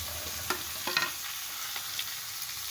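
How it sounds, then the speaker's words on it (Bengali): Chicken pieces with onions fry in a pan under a quiet, steady sizzle, broken by a few sharp clinks and scrapes of a spoon stirring. "মুরগিটা একটু ভাজা ভাজাই করবো"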